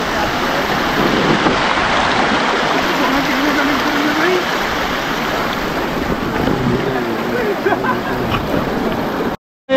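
Deep river water rushes with force in Coorg, a loud continuous roar of turbulent flow mixed with wind buffeting the microphone, steady throughout before cutting out abruptly at the end.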